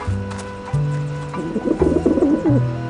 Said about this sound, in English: Ah, the pigeons obviously like this dish vent.